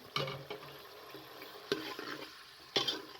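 Chopped onions dropped into a cup of cooking oil in a pressure cooker, giving a soft sizzle with a few louder clatters and stirring bursts at intervals, no talking.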